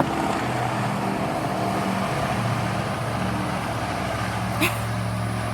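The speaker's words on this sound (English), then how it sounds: "there's a truck." A truck passing by outdoors gives a steady, loud engine rumble and road roar that holds for several seconds, with a brief sharp knock near the end.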